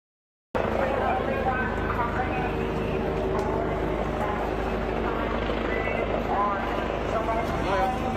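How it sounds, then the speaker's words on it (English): Police helicopter flying over a beach in Australia, a continuous loud rotor drone with wind and crowd ambience, steady throughout after a short silent start. "they have police helicopters flying over the beaches and telling people to get off the beach."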